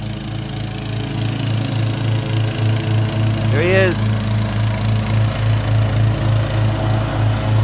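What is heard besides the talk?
Cub Cadet XT1 Enduro garden tractor mowing the lawn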